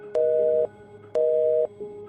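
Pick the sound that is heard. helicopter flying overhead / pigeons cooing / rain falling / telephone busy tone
telephone busy tone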